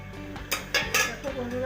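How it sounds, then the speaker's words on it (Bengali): A metal lid clatters onto a pot of potatoes on the stove, with a few quick clinks and a short scrape, close by and brief. "এবার এটাকে আমি ঢাকা দিয়ে আলুটাকে একটু সেদ্ধ হতে দেবো।"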